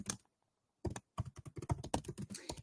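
Keys clack on a computer keyboard as a ChatGPT prompt is typed, a brief tap followed by a pause and then a steady run of quick, close keystrokes.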